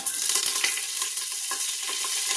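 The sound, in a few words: cinnamon, cloves, cardamom and curry leaves sizzling in coconut oil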